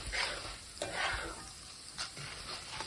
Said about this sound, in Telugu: ఇలా ఫ్రై చేసి పెట్టుకోవాలి